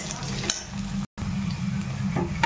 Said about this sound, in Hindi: और इसमें डालेंगे एक बड़ा आलू और इसको भी अच्छे से भून लेंगे।